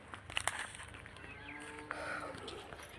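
A cow moos faintly and far off while cows and buffaloes graze near a village home, a drawn-out low call under quiet outdoor ambience with small clatters.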